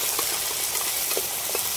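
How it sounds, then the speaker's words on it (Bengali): Ginger garlic paste hits fried onions in a pan for chicken leg biryani cooked outdoors in an open field, giving a steady, close sizzling hiss with faint pops and no talking. "আমাদের পেঁয়াজ ভাজা হয়ে গেছে, এর মধ্যে আদা রসুন পেস্টটা দিয়ে দেবো"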